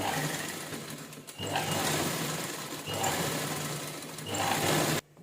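A sewing machine runs in long steady bursts while stitching a blouse lining, with brief pauses between runs and a sharp stop at the end.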